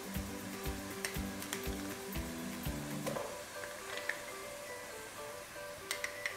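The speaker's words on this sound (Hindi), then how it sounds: "तो इसको हल्का सा भूनेंगे ताकि इसका कलर चेंज हो जाए लहसुन अदरक का" Garlic ginger paste sizzling in a pan, a steady close frying hiss with scattered small ticks and pops and a few spoon knocks, no talking.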